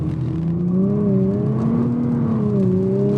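Engine of a 2017 Nissan GT-R under throttle at Spa-Francorchamps in the rain, heard from inside the car as a steady droning tone whose pitch gently rises and falls, with no talking.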